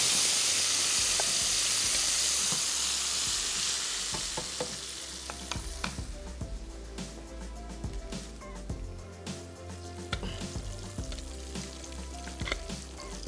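Garlic sizzles and crackles loudly in hot oil, then the frying settles lower as ginger-garlic paste goes into the pan, with steady spoon stirring and scraping continuing throughout.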